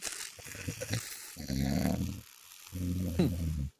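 A person imitates snoring with two long, low, rumbling snores separated by a short breath-like pause.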